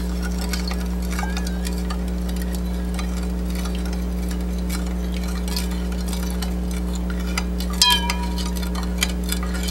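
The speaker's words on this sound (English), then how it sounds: "I'm going to start stirring and see if I can destroy the salt" A spoon stirs salt into water, giving light repeated clinks and scrapes against the container over a steady electrical hum, with one louder knock near the end.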